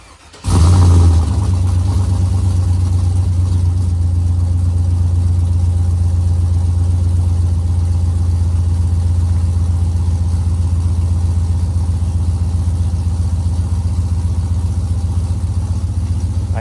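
A truck engine with new long-tube headers and a slight exhaust leak starts up at once and settles into a loud, steady, deep idle with a rumbling exhaust note that runs unbroken to the end.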